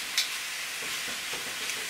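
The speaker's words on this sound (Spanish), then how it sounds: "Y así los vamos a seguir asando hasta que queden bien asaditos de los dos lados." Plantains and a bell pepper roast on a hot griddle, giving a soft, steady sizzle and faint crackle up close, with a couple of small pops and no talking.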